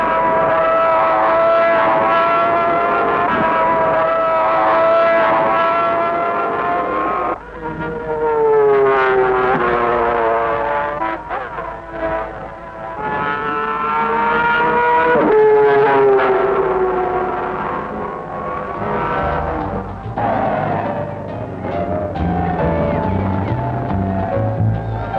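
Mike Hailwood's 250cc racing motorcycle on its last lap of the 1966 Dutch TT, a loud, high-pitched engine wail rising and falling through gear changes as it passes, with a short dip and recovery.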